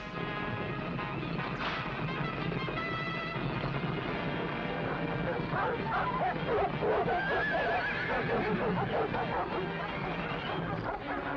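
Horses neigh and whinny in a 1940 period adventure scene, their shrill, wavering cries rising repeatedly over a noisy, continuous commotion that includes dog-like barks, fairly close and loud throughout.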